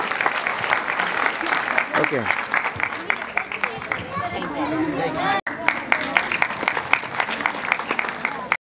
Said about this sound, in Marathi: जोरदार सर्व विद्यार्थ्यांसाठी एकदा टाळ्या.